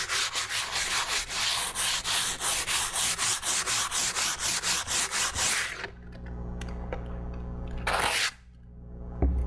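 Sanding an unwaxed fiberglass resin sun deck surface: rapid rhythmic back-and-forth rasping strokes, close and fairly loud for about six seconds, then quieter scattered rubbing and a brief final burst.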